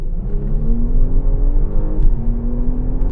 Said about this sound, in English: Let me put my foot down and get the first impression of how this car accelerates